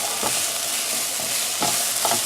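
Onions, beans and corn are stirred in a hot pan for a taco samosa filling, giving a continuous sizzle broken by a few soft spatula scrapes.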